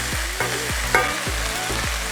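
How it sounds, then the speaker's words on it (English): Chilies, chili flakes, garlic and ginger fry in a hot wok for a Kung Pao chicken, giving a steady loud sizzle broken by several sharp scraping stirs at a regular pace. "Add the chilies and the chili flakes, garlic and ginger."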